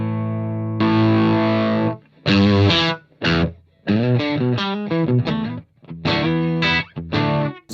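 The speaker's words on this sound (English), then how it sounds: "achieve not only fuzzy heavy tones, but also kind of lo-fi garage-like distortion tones" Electric guitar through a KMA Audio Machines distortion pedal giving fuzzy, lo-fi garage-style tones, played as loud sustained chords and choppy stabs with short gaps between phrases, no talking.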